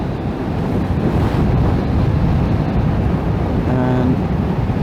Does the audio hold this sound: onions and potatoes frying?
no